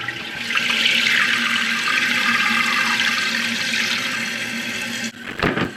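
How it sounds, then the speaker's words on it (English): Water rushes steadily into a toilet tank with a hissing, bubbling fill for about five seconds, then a few brief clunks as it stops. "we're going to turn on the water and see what happens. Oh no, there's water coming in."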